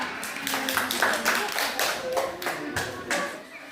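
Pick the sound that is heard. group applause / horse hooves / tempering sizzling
group applause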